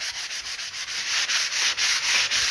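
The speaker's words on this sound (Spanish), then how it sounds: "Y voy a empezar a lijar." Sandpaper rubbing over a textured planter with a two-layer distressed paint finish, a steady, close scratchy rasp in quick repeated strokes with no talking.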